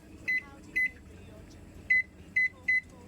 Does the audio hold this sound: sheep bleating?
no